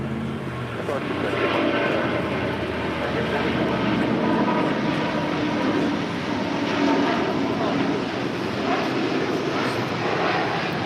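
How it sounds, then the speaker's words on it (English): Broad roar of a departing Virgin Atlantic Airbus A350-1000 jet bound for London Heathrow, steady and loud across the whole stretch, with voices talking over it. "This is Virgin Atlantic Flight 8 Heavy departing to London Heathrow on the A350 1000."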